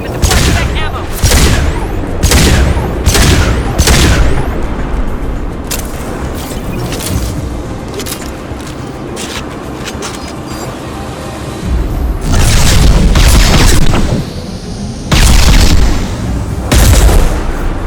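Loud gunfire and heavy explosions from the video game Mass Effect 2 come as rapid bursts of shots and booming blasts, with a quieter rumbling stretch in the middle before more close, intense bursts.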